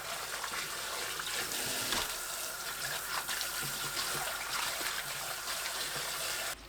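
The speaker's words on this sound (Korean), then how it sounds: "찬물에 헹궈주세요." Cold tap water runs steadily over blanched napa cabbage greens being rinsed in a kitchen sink, a continuous close splashing gush that keeps going for several seconds with no voices.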